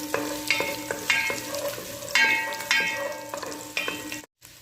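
Ginger sizzles in a pan for beef adobo as it is stirred, with a steady frying hiss and repeated rhythmic scraping strokes of a utensil. The sound is close and nearly alone, with a short gap near the end.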